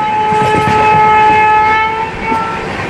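The Venkatadri SF Express pulls out of Chittoor station with a loud, sustained horn blast over the rumble and clatter of the moving coaches.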